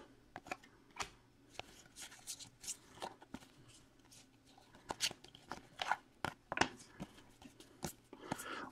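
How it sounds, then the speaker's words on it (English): Stacks of 2016/17 Panini Studio Basketball trading cards and white dummy cards are loaded back into a box for shipping, with close rustling, shuffling and sharp card clicks in irregular bursts over several seconds. "Loading us back up with the white dummy cards for shipping."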